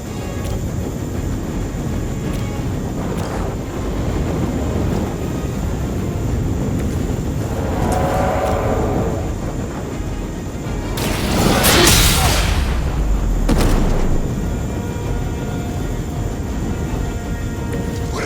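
A helicopter in the Midnight Suns video game roars past amid battle noise, a loud sustained rumble swelling to a heavy whooshing peak midway before fading, with occasional voice lines and effects.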